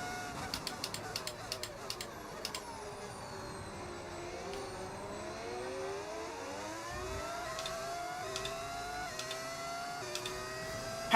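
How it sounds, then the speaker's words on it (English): A high, whining V10 racing engine in the video game F1 25 rises and falls through repeated gear shifts, with sharp upshifts and sustained revving at steady volume throughout. "the extra engine sound, I don't know, it's just an engine"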